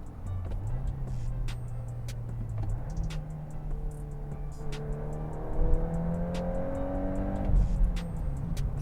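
A manual VW Mk8 Golf R engine downshifts and revs steadily, its tone dipping then climbing again in rising sweeps near the end, heard from inside the car with no talking.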